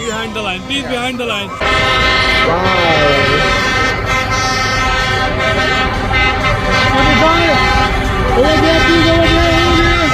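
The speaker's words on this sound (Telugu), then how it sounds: "wow truck parade is on it's way" Trucks in a parade at Great Yarmouth sound their horns: loud, sustained, overlapping honks and toots with bending pitch, nearly continuous after a brief opening, with voices in the crowd nearby.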